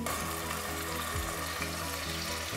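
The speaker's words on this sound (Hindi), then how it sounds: "अब इसमें लहसुन अदरक की पेस्ट शामिल कर देते हैं।" Steady, dense sizzling of garlic-ginger paste frying in hot oil, a constant crackle with a brief low stir or scrape partway through.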